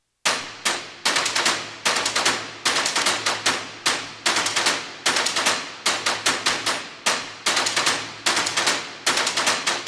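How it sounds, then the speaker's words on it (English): Layered metallic trailer percussion hits loop in fast, punchy bursts with sharp attacks and tingy, ringing decay, grouped in driving rhythmic clusters for about ten seconds with no voices. "Kind of more metallic, tingy hits."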